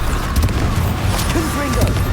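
Bombarda spell explosions in the video game Hogwarts Legacy go off as booming, crashing blasts amid battle noise, with a voice shouting spell names over them.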